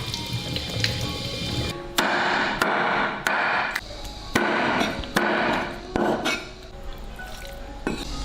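A cleaned quarter of duck is chopped into small pieces with a series of heavy, sharp chops, close and loud, spaced roughly every half second over a background of clatter.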